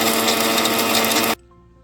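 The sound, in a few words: mixie jar grinding dried chili for idli podi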